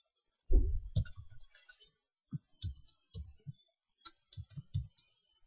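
Close, quiet typing on a computer keyboard, with scattered soft key clicks in short uneven bursts and gaps of near silence between them.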